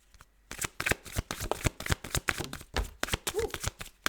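Tarot cards being shuffled by hand, a rapid run of close riffling slaps and flicks in quick uneven rhythm, without talk.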